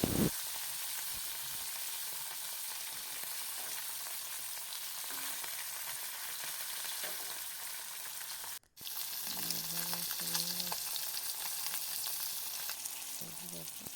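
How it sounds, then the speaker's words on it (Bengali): Fish fry in hot oil in a wok with a loud, continuous sizzle and crackle, broken by one brief gap before the hissing resumes at full strength. "মাছগুলো ভাজতে চালু করে দেবো।"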